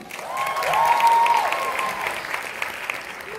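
A concert crowd at a show in Weert applauds steadily, a dense patter of clapping with a faint tonal whistle rising briefly over it.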